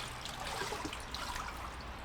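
Water trickles and drips as a Renogy 200Ah 12V LiFePO4 battery is lifted out of a bath, a steady close splashing dribble with no talk.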